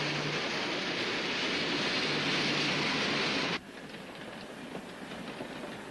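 A passenger train rumbles steadily along the rails with a loud, broad roar that abruptly drops to a quieter, muffled rumble partway through.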